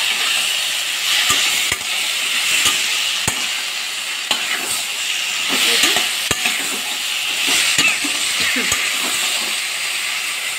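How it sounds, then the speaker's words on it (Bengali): Bottle gourd with lentil dumplings (lau bori) sizzles in a pan while a spoon stirs it, sharp scraping clicks landing irregularly over a steady frying hiss. "এটাকে আরও ভালো করে আমি নাড়িয়ে নেব।"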